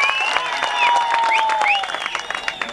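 An audience claps steadily at an outdoor Tamil debate held during the Puthumariamman temple festival, sustained applause with a few high whistle-like tones sliding through it.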